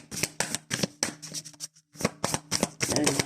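Tarot cards are shuffled by hand in repeated quick riffling bursts, each about a quarter second long, close and crisp, with a short pause near the middle before the shuffling resumes.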